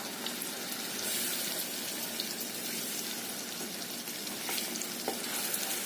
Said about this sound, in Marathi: गॅस मध्यम गॅसवरती हे छानसं तुपासोबत भाजून घ्यायचं आंब्याचा पल्प पण तुपासोबत थोडासा परतला गेलाय